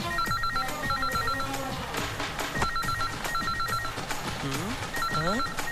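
A telephone rings in repeated bell-like bursts, several rings spaced evenly in a film scene, mixed with background music and a steady bed of other sound.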